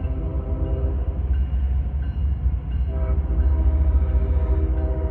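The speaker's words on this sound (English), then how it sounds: "CSX train." A loaded CSX freight train, about 15,000 tons with two locomotives up front and a distributed power unit, rumbles past steadily and loudly while its horn sounds over the constant roar of the moving cars.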